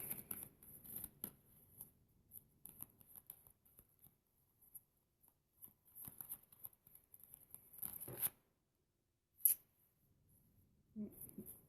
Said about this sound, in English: Just as I'm shuffling the cards